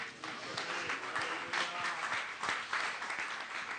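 A congregation at a church meeting breaks into dense, steady applause that stays loud and even for several seconds, with no talk over it.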